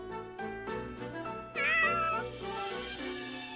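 A cat meows once in Fire Emblem Warriors: Three Hopes, a drawn-out rising and falling call rising over steady, harmonic in-game music.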